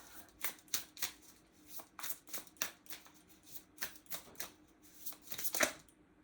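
Tarot and astrology cards being shuffled and drawn by hand, a quick run of crisp riffling and flicking bursts that go on for several seconds, close up, with a faint voice in the background.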